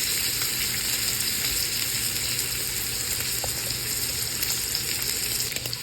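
Butter with garlic and fresh rosemary sizzles steadily in a pan while ribeye is cooked at home, a constant close crackle and hiss from start to end.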